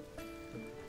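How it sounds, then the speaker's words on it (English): Steady rain falls in The Legend of Zelda: Tears of the Kingdom, a soft continuous patter under the game's faint tonal background, with no talking. "It is rain."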